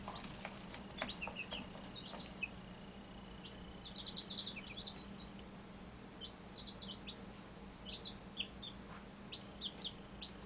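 Chickens in a backyard coop give short, high chirps and clucks scattered across the stretch, faint and a little distant over a steady low hum.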